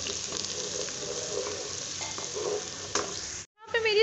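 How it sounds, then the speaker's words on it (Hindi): Onion and cumin sizzle and fry steadily in hot mustard oil, with occasional stirring scrapes. The sound is close and continuous, then cuts out briefly near the end before a short burst returns. "अब इसमें प्याज ऐड कर देंगे, प्याज और ज़ीरा ऐड कर दूंगी मैं, इसे कर लेंगे अच्छी तरीके से फ्राई"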